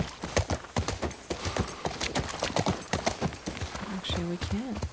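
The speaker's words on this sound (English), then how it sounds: "Let's hop on the horsey." Horse hooves clip-clop in a quick, steady rhythm while riding in The Last of Us Part 1, with a horse snorting or whinnying near the end and a person talking over the hoofbeats.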